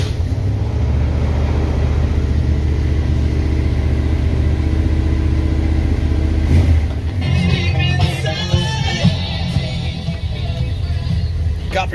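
Big-block 7.5L 460 V8 in a 1978 Ford F-250 running after an oil change, a loud steady low rumble that shifts partway through into a rougher, busier rev with clatter on top.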